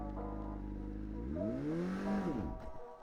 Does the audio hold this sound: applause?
no